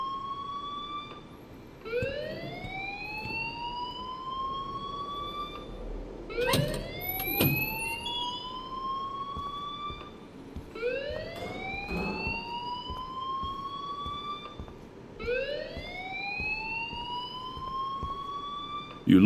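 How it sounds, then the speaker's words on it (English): Rising electronic alarm siren in the video game Life is Strange Remastered, repeating whoops every few seconds, loud and steady over background ambience. "please turn off that alarm since that's your job"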